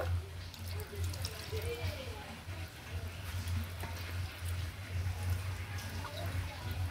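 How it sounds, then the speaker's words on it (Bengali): Tap water runs steadily into a mixer jar as it is rinsed, a soft continuous splashing with a low hum underneath, fairly quiet and close. "এবার মিক্সি জারটা ধুয়ে জল দিয়ে দেব।"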